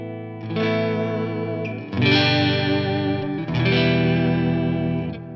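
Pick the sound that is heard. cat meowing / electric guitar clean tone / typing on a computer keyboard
electric guitar clean tone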